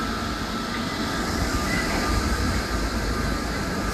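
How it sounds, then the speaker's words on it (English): A tram at a large tourist site on Hawaii's Big Island rumbles past in a steady, close, broadband roar. No voices can be heard over it. "It has its own tram."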